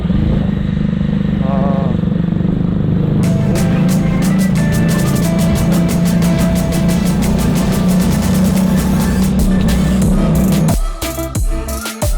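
A road vehicle on a mountain highway drives into a tunnel, its steady loud engine and road roar turning reverberant with rapid rhythmic thumps from the tunnel surface, then easing near the end.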